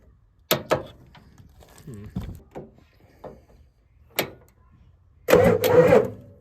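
A 1988 Ford F350 with a 7.3 IDI diesel engine cranks over in short separate bursts with clicks and pauses between them, ending in a longer, louder churning crank, with brief talk in between.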